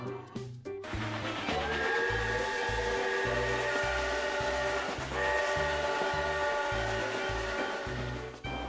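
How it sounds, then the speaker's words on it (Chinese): A cartoon toy train rolls along its tracks with a steady, loud rhythmic chugging, sustained whistle-like tones running over it for most of the stretch, and no voices. "火车在轨道上欢快地行驶着"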